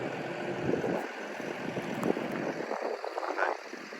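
Light wind blows across a corn field on a fairly calm day, a steady soft broadband rush with small gusts and no voices.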